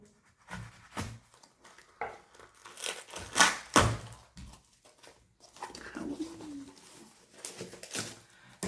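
A well-packed book subscription box being unwrapped by hand, with close crinkling and tearing of packaging in irregular bursts, one loud rip near the middle, and a brief faint voice.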